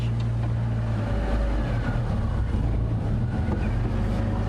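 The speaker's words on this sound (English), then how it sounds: "Let's get my car into low range." A safari vehicle's engine drives in low range on a sunrise game drive, a steady deep rumble and drone holding throughout, loud and close, with no voices.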